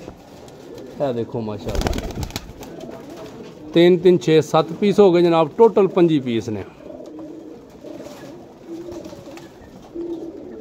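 Pigeons in a loft of about twenty-five birds coo in a steady, close low warble, heard clearly through the middle stretch while someone talks over and between the calls.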